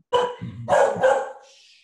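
A dog gives a few sharp barks in quick succession, close and loud, with the last one fading out.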